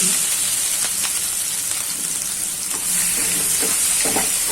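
Ginger, garlic and chili paste fries in a pan, making a loud, hissing sizzle close up, with repeated scraping stirs through the steady crackle.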